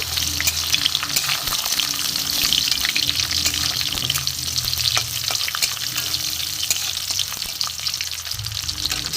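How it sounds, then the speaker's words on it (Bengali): Coconut, raisins, cashews and dates frying in a pan give a loud, continuous crackling sizzle up close, with scattered sharp pops and the scrape of stirring throughout, no voices. "নারকেল, কিশমিশ, কাজু, খেজুর, এই ড্রাই ফ্রুটটা দিয়ে দিলাম। একটু ভেজে নেব।"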